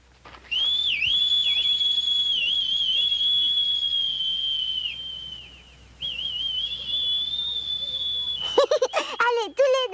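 Two people whistle together, sustained with a steady tone and small wavering slides for several seconds, briefly dipping, then ending in a burst of quick, rising chirpy whistles.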